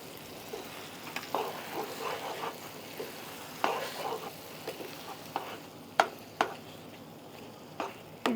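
Spice powder stirred into a gongura tempering in a pan, soft frying sizzle under repeated spoon scrapes and sharp clinks against the pan, close and fairly quiet.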